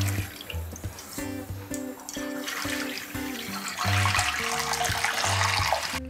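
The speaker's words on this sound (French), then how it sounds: "je vais mettre de l'eau" Water pours and splashes steadily into a water bath around a pâté de campagne terrine, a continuous trickling flow with faint background tones underneath.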